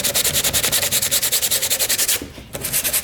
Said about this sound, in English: In the broken areas, you're just gonna sand the shit out of this.